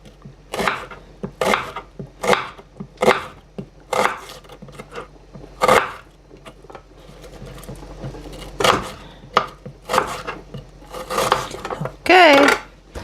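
A knife chops a yellow onion on a board in a home kitchen, sharp regular knocks in quick bursts with brief pauses, close and loud, with a few clinks near the end.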